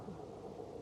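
Thunder rumbling over heavy rain in a radio drama scene of a collapsing, leaky hut, with a steady low roar and downpour filling the short moment and no voices.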